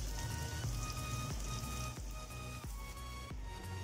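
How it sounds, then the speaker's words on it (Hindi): Finely chopped onions fry in oil for a karela gosht (bitter gourd and meat) dish, giving a close, steady crackling sizzle like light rain, with faint regular clicks and no talking. "प्याज को भी हमने बिल्कुल जो है लाइट सा कलर आने तक फ्राई करना है।"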